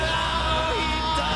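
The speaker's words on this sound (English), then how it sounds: "Now you can hear the crowd going." Crowd at a Capcom Cup esports fighting game finals roars and yells continuously, a dense, loud wall of cheering and whooping with babble running through the whole moment.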